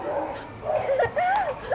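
Several dogs bark and yip in quick bursts, including a pit bull and a Doberman, with whimpering, rising cries and a voice nearby.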